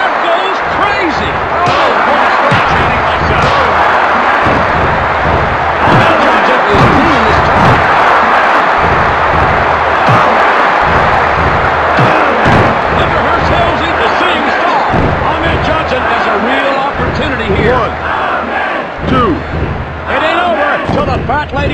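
Arena crowd roar in the WWF War Zone wrestling game on Nintendo 64, a constant loud wash of cheering layered with thuds and slams from the ring, running under a commentator's voice throughout.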